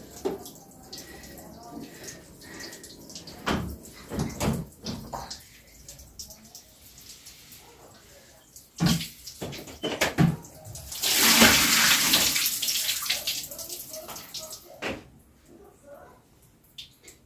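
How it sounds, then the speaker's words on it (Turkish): Water running and pouring into a bathtub while a toy car is washed, with splashing bursts and a sustained strong gush of tap water near the end, mixed with occasional handling noises. "küvetin içine sokup orada biraz daha sulayayım ben bunu"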